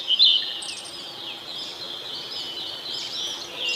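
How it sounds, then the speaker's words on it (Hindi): A small bird chirps in a forest setting, with bright high tweets and flutters over a quiet background, one sharper call near the start followed by softer continuous twittering. "तभी एक चिड़िया उसके आसपास आकर उड़ने लगी।"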